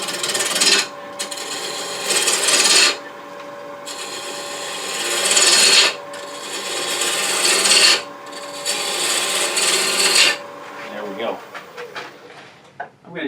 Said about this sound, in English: I'll just use a roughing gouge. Come down, probably no more than 1/8 of an inch.